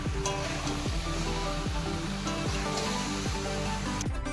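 Potatoes fry with spices in a pan, a dense continuous sizzle broken by repeated scraping strokes of stirring, close and loud throughout.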